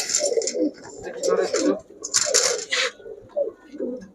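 Pigeons, high-flyer Giribaz birds in a shop, coo in soft repeated low phrases close by, mixed with someone talking over them throughout.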